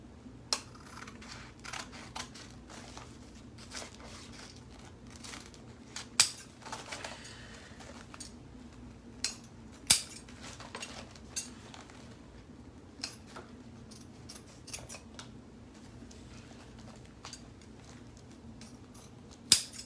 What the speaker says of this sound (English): I think I'm gonna cut this at an angle.